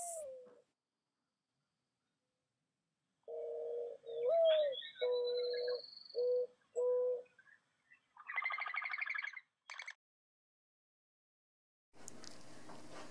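Mourning doves coo softly at close range in a run of low, hollow notes, followed by a few brighter chirps from other birds, with quiet gaps between calls.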